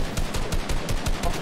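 Rapid automatic gunfire in a Fortnite-style shooter game, about eight evenly spaced sharp bursts in quick succession over under two seconds, moderately loud with no talk over it.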